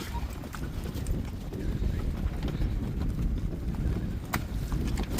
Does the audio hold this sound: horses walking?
yes